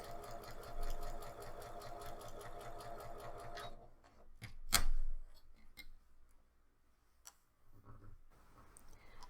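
A sewing machine stitches silk fabric in a fast, even mechanical run for about four seconds, then stops, leaving a few sharp clicks and quieter handling noises close by.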